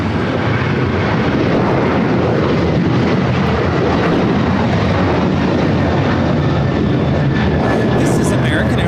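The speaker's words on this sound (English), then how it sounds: "This is American Airlines 1899 taking off to Indianapolis on the 737-800." An American Airlines Boeing 737-800 takes off at LAX with a loud, continuous jet roar that fills the whole stretch, a voice faintly talking beneath the engine noise.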